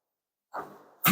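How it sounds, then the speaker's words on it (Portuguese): A preacher's sneeze that never comes out during a sermon: a sharp breathy catch, a trailing exhale, then a second abrupt burst of breath. It is close and loud, with silence before it and no speech. "Queria espirrar e o espirro não saiu, desculpa."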